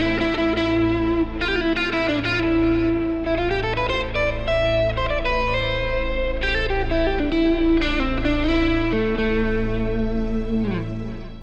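Electric guitar runs up and down a scale, note by note, with effects and distortion giving a sustained, slightly echoing tone, played alone and steadily throughout.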